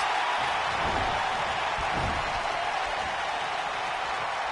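An arena crowd roars in the wrestling video game WWE 2K19, a dense, steady wash of cheering and applause heard at a distance with no clear voices.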